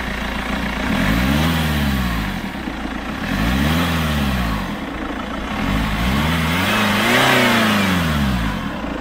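A BMW E60 520d with the 2.0-litre four-cylinder M47 diesel engine rated at 163 hp is revved three times, each rise and fall close and loud over a steady idle.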